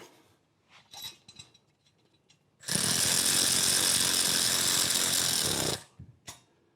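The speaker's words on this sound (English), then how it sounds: "And put our barrel bolts in place here." A power tool runs continuously for about three seconds, driving barrel bolts into an engine intake manifold during an engine build, loud and steady with faint handling noises before and after.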